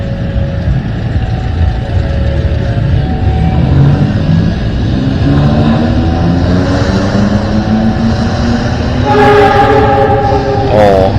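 A long train rumbles past a traffic queue at a crossing in Batujajar, Indonesia, its heavy rolling noise filling the scene, then a long horn blast sounds near the end.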